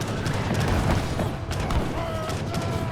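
Booming cannon fire and dense battle clatter from an Age of Empires 3 match on the Horn of Africa map, loud and continuous under a commentator's voice.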